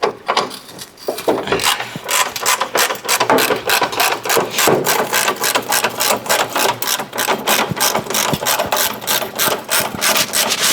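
Close, loud rhythmic rasping and grinding as a bolt is cut out on a Volkswagen Golf 7R during downpipe removal, with steady repeated strokes that continue for the whole stretch.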